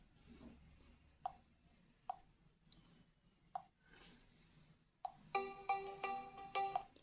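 Ringtone from a Realme C51 phone speaker: a few sharp clicks and taps, then a bright, tinkly chiming melody plays clearly near the end in a quiet room.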